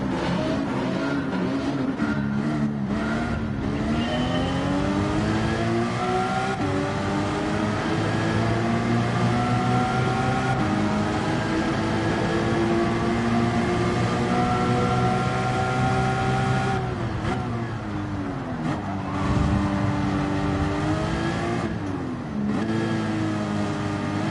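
Race car engines in Gran Turismo 7 drone loudly and steadily, pitch climbing and falling through gear changes, with several cars running close together in a C-rank online race.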